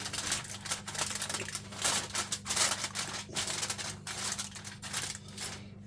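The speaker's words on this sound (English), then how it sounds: "Cover with tin foil. Carefully." Tin foil crinkled and pressed over a venison roast, a close crackly rustle in irregular bursts over a low background hum, fairly quiet, no speech.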